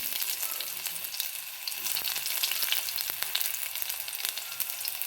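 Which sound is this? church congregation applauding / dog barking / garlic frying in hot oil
garlic frying in hot oil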